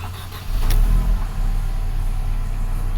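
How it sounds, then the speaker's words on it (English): A Mercedes-Benz with a Drive Authorization System fault cranks and fires up, a sharp start followed by a loud, steady idle rumble close by. "now the car starts up."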